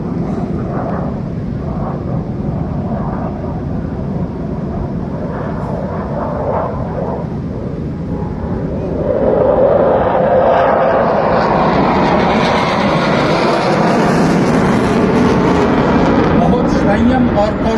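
Indian Navy aircraft flying an aerial display at Sindhudurg fort, a loud engine roar that builds and swells as the plane passes close overhead, with a commentator talking throughout.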